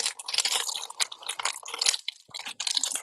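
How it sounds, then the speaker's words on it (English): Someone chews orange-flavoured chocolate right at the microphone, producing loud, close, wet crunching and mastication bursts in quick succession with brief pauses and no speech. "Sorry for the noise of me chewing."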